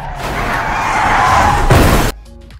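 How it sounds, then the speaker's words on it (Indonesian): Car screeching as it skids in a film scene, a loud sustained tire squeal building over two seconds, then a sharp impact burst as another car hits it, followed by abrupt near-silence with a faint tonal ring. "dari arah tak terduga tiba-tiba sebuah mobil menabraknya"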